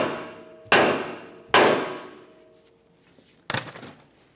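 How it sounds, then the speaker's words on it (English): Three sharp metallic hammer blows ring out against the steering knuckle of a 1994-1997 Honda Accord, two close together and a third after a pause, each clang decaying slowly. "we'll continue on with a hammer, causing some vibration on the steering knuckle"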